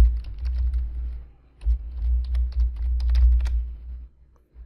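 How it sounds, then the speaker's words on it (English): Typing on a computer keyboard while entering a command in Windows Server, a close, steady run of key clicks in several bursts with a brief pause, no voices. "Now we'll type the forest mode."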